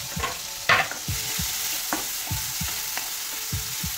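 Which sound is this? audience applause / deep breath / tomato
tomato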